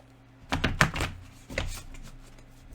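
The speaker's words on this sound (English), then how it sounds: "Let's shuffle" A deck of cards is shuffled for a pick-a-card reading, with two short, papery riffling bursts close by in an otherwise quiet room.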